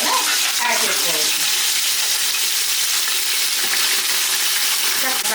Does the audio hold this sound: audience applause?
no